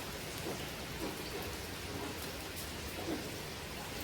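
Steady rain pours down outdoors in a village during the rainy season, a dense even hiss of falling water with soft scattered drops, continuous and unbroken, with no voices over it.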